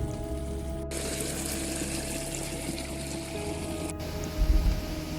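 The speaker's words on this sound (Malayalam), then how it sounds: "നല്ല ശക്തിയായി തന്നെ ഒഴുകുന്ന ഒരരുവി." A strongly flowing stream crossing a footpath at Kappimalai waterfalls during the monsoon rushes in a loud, continuous roar with a deep churning undertone, heard close up.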